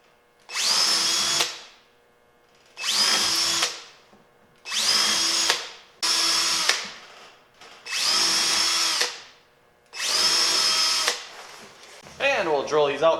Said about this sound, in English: And we'll drill these out to 3/8, starting on the Phillips side.